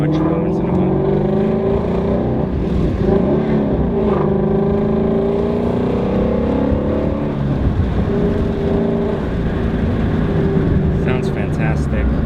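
A Ferrari 550 engine hums and revs continuously while driving, with a voice talking over the steady engine drone.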